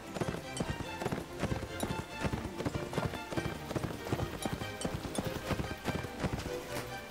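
Horse hooves galloping in Mount & Blade: Napoleonic Wars, a fast steady clip-clop rhythm that stays loud and continuous across the whole stretch.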